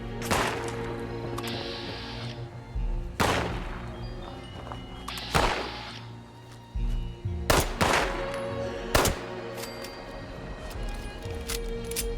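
Gunfire in the video game Fallout 76: sharp, loud shots at irregular intervals, some coming in quick pairs, over a low ambient bed.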